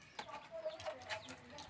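A hen clucks softly, a few short low calls close by, with faint rustling in the background.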